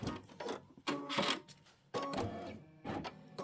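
A Kimberbell embroidery machine stitches the detail on a flower for a wallflower quilt block, working in short mechanical bursts with brief pauses between them, close and moderately quiet.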